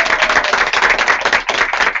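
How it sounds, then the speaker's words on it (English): A group of participants applauding together at the close of a classroom role-play exercise, a dense burst of hand clapping that holds steady for about two seconds, loud and close, with no talking over it. "Round of applause, please."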